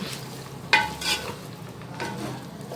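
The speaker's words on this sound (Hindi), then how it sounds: "अब मैं इसके अंदर ये तीनों अंडे डाल दूँगी। अब आपको इसी तरह से चमचा चलाते रहना है।" A spoon scrapes and stirs eggs with chicken frying in a pan, a few distinct close scrapes over a steady soft sizzle, with no talking.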